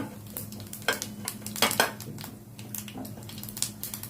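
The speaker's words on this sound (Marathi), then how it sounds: "थोडस आपण ते मिक्स करून घेऊया" A spoon stirs a tempering mixture in a hot pan, giving several irregular scraping and clinking strokes over a low sizzle, close and fairly loud with no talk.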